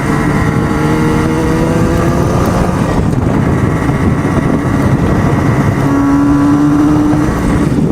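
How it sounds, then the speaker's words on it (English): An old restored motorcycle's engine, revived after 52 years of sitting, runs steadily while the bike cruises along a strip, giving a loud, continuous, close-up drone with a harmonic hum and no speech over it. "This bike runs so great. It just cruises right along,"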